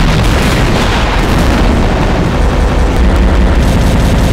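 A nuclear bomb explosion in Garry's Mod roars as a loud, sustained, dense rumble that fills the whole stretch with no letup and no talk.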